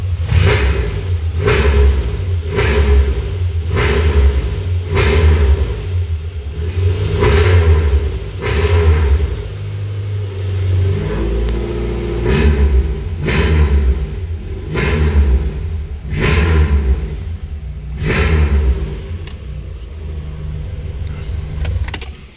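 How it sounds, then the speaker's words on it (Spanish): A Volkswagen Caribe GT engine revs repeatedly in rhythmic bursts, its exhaust rumbling loudly up close and then settling into a throaty idle between blips. "ese escape, así como roncaban de sabroso estos Caribes"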